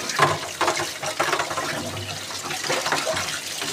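Water splashing and pouring while rinsing a surface clean after washing with detergent, a close, uneven rush of flowing water with intermittent gushes.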